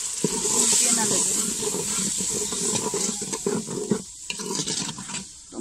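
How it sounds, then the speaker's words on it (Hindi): Water is poured into a pan of spiced aloo matar curry as it cooks, giving a continuous hissing, splashing sizzle. A person talks faintly over it. "थोड़ा सा मैं इसमें पानी डालने लगी हूँ, ताकि जो मसाले हैं वो भूलते ना लगे।"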